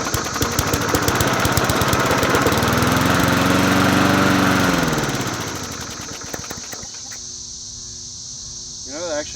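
A worn Huskee 22-inch push lawn mower engine roars loudly at full throttle, then winds down and fades toward idle, with faint insect chirping in the background.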